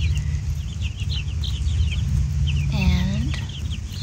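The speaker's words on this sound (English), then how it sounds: "Summer barred rock mixed with Americana and Easter eggers." Barred Rock, Ameraucana and Easter Egger chickens cluck steadily in a farm setting, with a brief rising crow-like call near the end, layered over a constant low background rumble.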